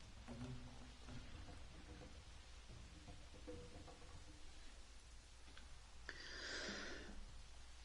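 Rain falling in the dinosaur park game Jurassic World Evolution: a faint, steady patter, with a brief brighter rush of noise toward the end.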